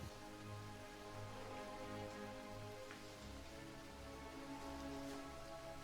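Steady rain ambience for a Curse of Strahd tabletop role-playing session set on the way to the vineyards: a dense, even wash of falling rain with soft drops, continuous and fairly close throughout, with no voices.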